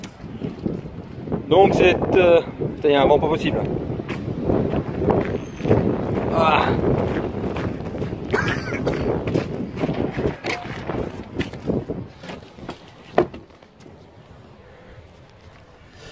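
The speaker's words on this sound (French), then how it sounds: "Il y a un vent pas possible." Strong wind gusts buffet the microphone outdoors beside a truck, with rough, uneven roaring bursts; someone talks over it briefly before the gusts ease toward the end.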